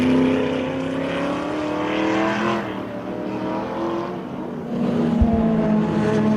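Chevy Can-Am race car in historic racing, its engine rising and falling as it drives past, getting sideways, with loud throttle changes and a brief thump near the end, no voices.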